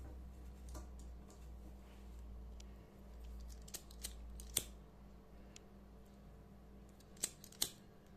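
Scissors snip crochet thread to tidy the yarn end of a needle-lace oya piece, giving a few faint, sharp clicks spaced apart over a quiet room hum.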